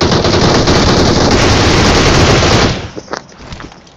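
Sustained automatic gunfire in the mobile game BGMI rattles loud and dense for about two and a half seconds, then cuts off into scattered faint shots.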